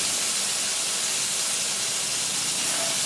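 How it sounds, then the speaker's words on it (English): Venison steaks, a very lean meat, searing in a hot pan, giving a loud, steady broadband sizzle and hiss that holds evenly throughout, close up with no talk. "So we're just going to add the venison steaks right in."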